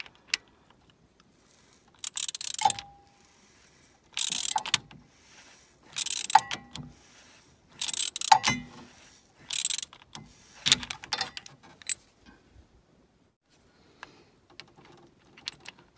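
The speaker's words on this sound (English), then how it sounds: "tightening it, putting your ratchet on tighten definitely seems to be the right direction" Ratchet wrench tightening a bolt during a brake pad swap on an R56 Mini Cooper S, heard as several short bursts of rapid clicking separated by pauses, close and fairly loud with no talking.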